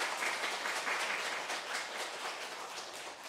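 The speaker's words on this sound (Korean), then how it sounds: "우리 박수로 좀 환영해 주시기 바랍니다." A congregation at a Korean Adventist church service in Sydney applauds to welcome newcomers, a steady, dense wash of many hands clapping that holds evenly throughout with no talking.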